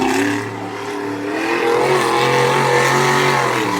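Monster truck racing around a dirt track at Swedesboro, New Jersey, its engine roaring loud and close with a dip and then a surging, sustained rev as it churns up dirt.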